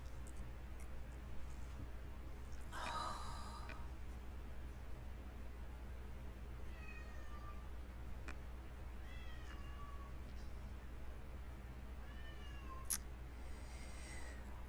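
An old cat meows a few times, with several short, clear calls spread over a faint hissy background in a quiet room and no talking.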